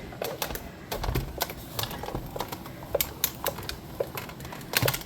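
A hand-cranked die-cutting machine feeds a paper card through, giving a run of rapid, irregular clicks and ratcheting ticks close up, steady for several seconds with brief pauses.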